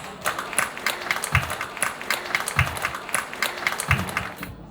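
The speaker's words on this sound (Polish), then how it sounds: "wielkie brawa dla nich" Steady applause from a group at a company's 30th anniversary celebration, clapping continuously with a few louder bursts, fairly close and without voices.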